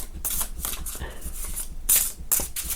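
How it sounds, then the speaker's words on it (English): A deck of mushroom spirit oracle cards is shuffled away from a microphone, giving papery riffling and flicking in quick bursts with a couple of louder snaps near the end, steady and moderately close. "They sound noisy. I try to shuffle away from the microphone."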